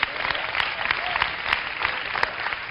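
Audience clapping, a dense steady wash of applause from many hands throughout.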